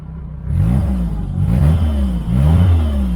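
A Mini with an A-series engine and a sports pancake air filter runs close by, revving up and down in repeated rises and falls over a steady low idle, loud and continuous with no talk.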